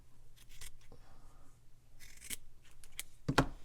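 Scissors trim crochet yarn on a small carrot decoration for an Easter garland, giving a few quiet, close snips spread across a few seconds, with one sharper cut near the end.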